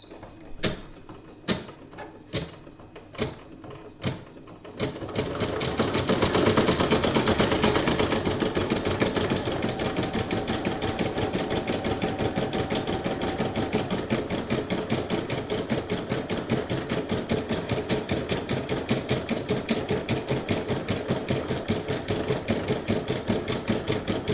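Computerized embroidery machine stitching a white ghost design onto a Halloween coaster: a few sharp clicks first, then a loud, steady mechanical whirr of rapid needle strokes running continuously without talk.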